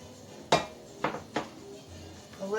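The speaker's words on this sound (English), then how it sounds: "I'm going to put a little rice" Rice being spooned onto a dish at a meal of fried pork chops, rice and beans: three distinct clinks of spoon against plate, close and clear, with no talk.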